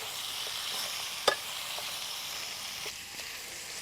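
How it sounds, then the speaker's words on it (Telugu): Boiled mutton pieces fried and stirred in a pan, with a soft steady sizzle, one sharp clink of a utensil early on and faint scraping after, quiet and without voices. "ఇప్పుడు మనం ఈ ఉడికించుకున్న మటన్ని ఇలా వేసుకోవాలి. ఇదంతా మంచిగా ముక్కగా పట్టించుకొని ఫ్రై చేసుకోవాలి."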